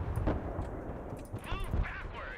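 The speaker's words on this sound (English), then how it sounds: "That's artillery, that's fine." Artillery fire in the Broken Arrow video game comes as several muffled booms and bursts at moderate volume, with whistling shell sounds mixed in near the end.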